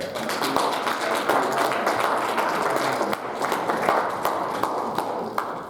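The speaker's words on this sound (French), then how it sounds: "On nous applaudit au Seigneur." A church congregation at a Sunday service claps together in a lively, rhythmic burst of applause that stays loud and continuous, with faint voices mixed underneath.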